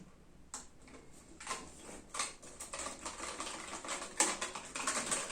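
Clicky, tactile typing on a Keychron K1 V4 keyboard fitted with brown switches, a dense run of close keystrokes with a few sharper louder taps, fairly loud and alone without talk.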